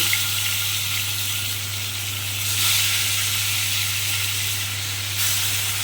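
Hilsa fish pieces rubbed with salt and turmeric frying in hot oil, a steady close sizzle and hiss with a low background hum, swelling slightly midway.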